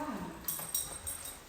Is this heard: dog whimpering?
yes